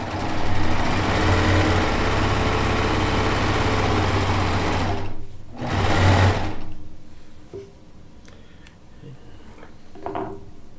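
Sewing machine stitching quilt fabric, a steady loud mechanical whir running continuously, then stopping briefly and giving a short final burst before quieter handling sounds.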